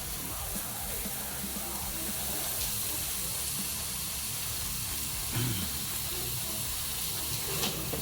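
Unsalted butter sizzling in a hot pot for chicken soup, a steady soft hiss and crackle close by, with no talk over it.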